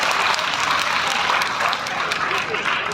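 An audience at an outdoor environment quiz competition at a fair claps together for a correct answer, a dense, steady burst of applause heard close for a few seconds with voices mixed in.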